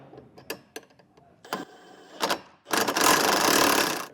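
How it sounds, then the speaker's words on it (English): Several short clicks and taps of a 24mm socket and wrench on bolts during a hitch receiver install on a 2024 BMW, quiet and spaced out, ending in a longer rough scraping burst. "I'll just use a 24mm socket and wrench and get these tightened down."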